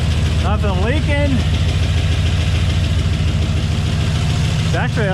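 A Texas Speed LQ4 6.0 V8 with Texas Speed heads and cam idles steadily and loudly after its first start, a continuous deep rumble close by, with brief speech near the start and end.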